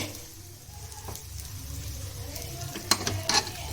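Rice is stirred into a hot pan with egg for chicken egg fried rice, giving a soft, steady sizzle and occasional scraping strokes from a spatula. Clicks of metal against the pan come near the end.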